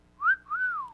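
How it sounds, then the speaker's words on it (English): A person whistles two quick tones, a short rising note followed by a longer gliding one, clear and close in an otherwise quiet room. "When I learned how to whistle, I was constantly going."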